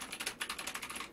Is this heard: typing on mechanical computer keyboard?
yes